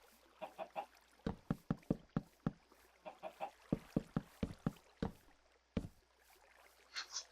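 Chickens in a Minecraft modpack world, a scatter of short clucking and knocking sounds in uneven bursts, fairly quiet and close, with no talking.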